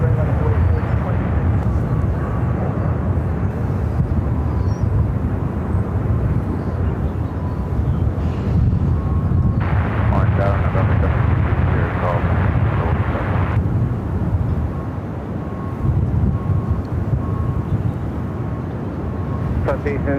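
A plane departs Phoenix airport, its broad engine roar running steadily the whole time with wind buffeting the microphone and tower radio voices talking over it.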